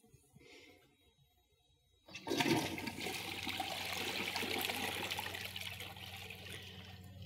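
A Geberit AquaClean ceramic toilet with TurboFlush flushes after a quiet moment, starting with a sudden rush of water that settles into a steady, smooth swirl and trickle, close by and with no talking.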